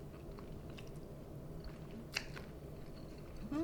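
Someone chewing a bite of sausage frittata with basil, tomato and shallot: soft, steady close mouth sounds with a brief sharper crunch near the middle, no talk, over a low background hum.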